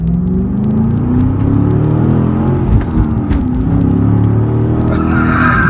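A 2005 Cadillac CTS-V sedan accelerates hard with short shifts, its engine a loud close rumble with rising pitch sweeps broken by gear changes, plus rapid ticking clicks over the drone.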